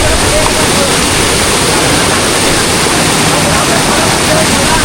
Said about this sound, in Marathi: मस्तपैकी धबधबा कसं पडतं, खाली पाणी पडतंय.